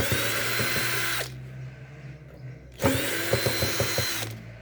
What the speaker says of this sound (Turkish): Önce vidaları uygun bir tornavida yardımıyla söküyoruz